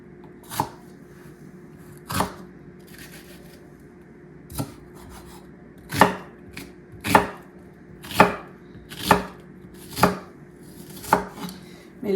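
Onions are chopped with a knife directly on a countertop, sharp close knocks arriving irregularly at first, then settling into a steady rhythm of roughly one per second, with faint rustling in between.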